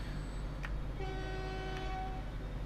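Trains in the video game Transport Fever run with a steady low rumble, and a train horn sounds a sustained tone midway, fairly quiet overall.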